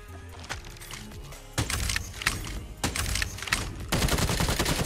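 Rapid video game gunfire from a sniper rifle in Call of Duty Mobile battle royale, several loud bursts of shots and dense volleys with short gaps between them, no talking.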